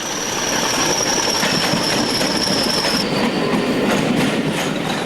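British Railways Class 40 diesel locomotive passing with a train at Northallerton, a loud close roar of engine and rolling wagons with rhythmic wheel clatter and a sustained high squeal from the wheels.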